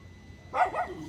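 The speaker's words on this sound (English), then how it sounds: "they'll bark in harmony with the dog." A dog in the Philippines gives a quick double bark from a moderate distance after a moment of quiet background, with no one talking.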